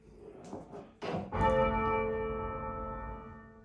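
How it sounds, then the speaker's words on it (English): A large church bell at St Saviour's is struck once during a restoration test ring, after a couple of soft knocks, ringing out loud and close with a long, slowly fading metallic hum. "they ring up and test each bell individually"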